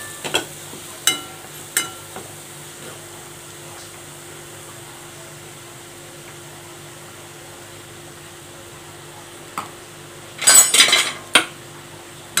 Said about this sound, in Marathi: छानपैकी मिक्स करून घ्यायचं.